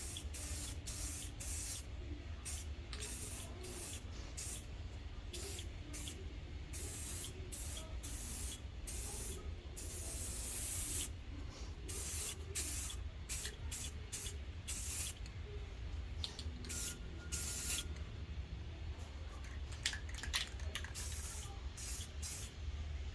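Repeated spray-can bursts apply a top coat over a cracked taillight, short hissing blasts in irregular rhythm, close and steady, with no talking.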